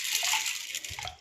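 Water is poured close by into a cup of lentils for simple greens sambar, making a brief splashing, sloshing trickle that tapers off within a second or so.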